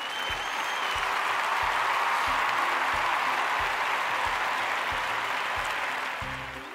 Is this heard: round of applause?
yes